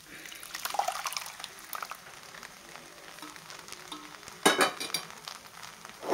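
Leftover rice with dal stirred in is sautéed in a pan, producing a steady wet sizzle with occasional stirring and a louder splattering burst near the end.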